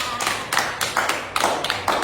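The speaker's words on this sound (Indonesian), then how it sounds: "tepuk tangan untuk Ewa" A small group claps for a classmate in a group counseling session, a short scattered round of hand claps in several bursts, close and moderately loud, with no voices.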